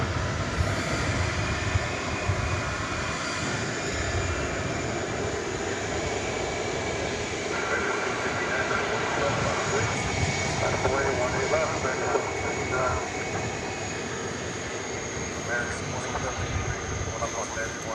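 A Frontier Airlines jet on a runway at Dallas Fort Worth airport at night, its steady engine roar filling the scene continuously, with people talking over it throughout.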